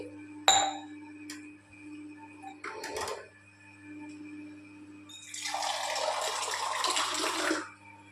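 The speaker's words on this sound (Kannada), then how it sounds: "ಈ ಥರ ನೀರು ಹಾಕ್ಕೊಳ್ತಾ ಇರ್ರಿ." Water poured into idli and dosa batter, a steady splashing, gurgling pour rising for about three seconds near the end after a few brief clinks and knocks.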